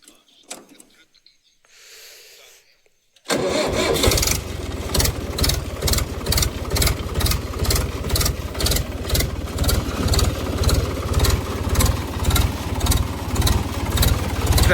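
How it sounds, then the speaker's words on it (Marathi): A tractor cold-started on a farm: after a quiet moment with faint activity, the diesel engine catches abruptly and settles into a loud, steady, rhythmic chugging idle that runs close by for about eleven seconds. "आपण ट्रॅक्टर कोल्ड स्टार्ट करूया."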